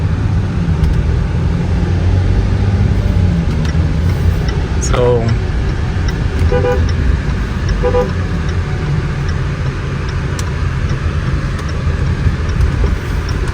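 A Range Rover Evoque engine runs steadily after a misfire repair, a loud continuous rumble with a few short tonal whines over it, while voices talk in the background throughout.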